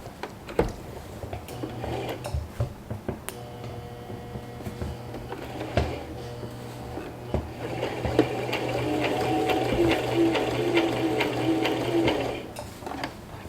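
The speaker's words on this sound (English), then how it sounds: "Pull the needles out or the pins out before you sew over them" A sewing machine stitches a seam on a fabric tote bag, its motor whirring in steady bursts that stop and restart, then run continuously and louder toward the end with a rapid needle clatter.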